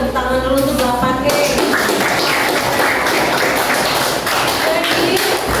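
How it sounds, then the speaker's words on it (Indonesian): Classroom of students applauding, a burst of loud, dense clapping and taps that starts after a short spoken phrase and continues steadily, with voices mixed in. "Coba sih tepuk tangan dulu untuk 8K."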